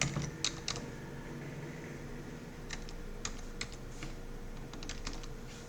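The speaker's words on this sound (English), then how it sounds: "So let me type that." Password being typed on a computer keyboard while setting up a Windows Server 2022 domain controller, a quick run of light key clicks in short bursts over a steady fan hum.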